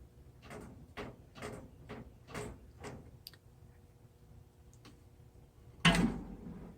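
Drawers on a HyperTough five-drawer 20-inch tool chest sliding open on ball bearing slides, a run of about seven quick rolling pulls in a steady rhythm, close and fairly faint, ending in a sharper, louder clack.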